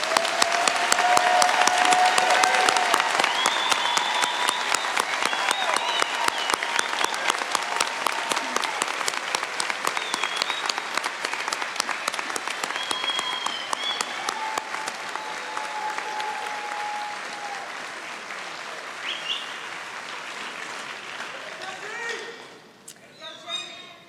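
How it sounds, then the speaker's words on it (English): A large audience gives a sustained round of applause for nursing graduates at a spring pinning ceremony. The dense, even clapping runs for over twenty seconds with crowd murmur beneath it, then thins and stops. "Let's have a round of applause for all of these nurses"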